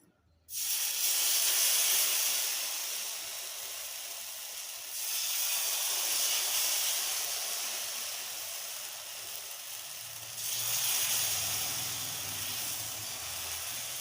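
Loud, steady hissing sizzle of dosa batter made with bottle gourd spreading on a hot oiled griddle, with two fresh surges of crackling as more batter hits the pan.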